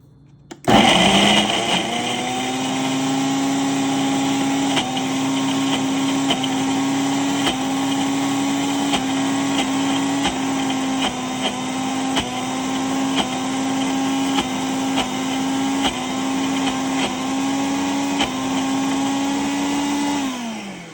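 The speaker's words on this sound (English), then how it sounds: "blend it for just a second, just a minute or so, before we add the rest of the ingredients in" A kitchen blender whirs steadily for about twenty seconds, blending a vegan mushroom egg filling, loud and close with a slight pitch rise before it winds down.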